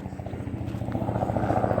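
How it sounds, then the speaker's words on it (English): A helicopter's rotor thumps in a steady, rapid pulse, fairly loud and close, with a droning engine beneath. "Oh, big helicopter coming."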